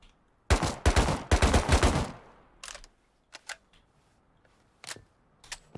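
Gunshots fired at a wooden door in Rust: a loud, fast cluster of close shots for about a second and a half, then a few sparse single shots with pauses between them.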